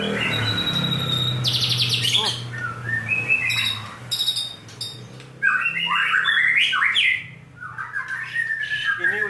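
A red-capped white-rumped shama (murai batu) sings close by in loud, varied bursts of whistles, squawks and chirps with short pauses between phrases.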